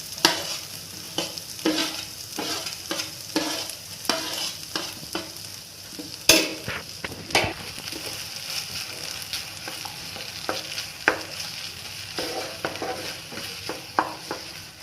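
Cashews and raisins stirred into pumpkin halwa frying in a pan, with steady sizzling and a run of scraping stir strokes, plus a few sharper knocks of the spoon against the pan, close and alone.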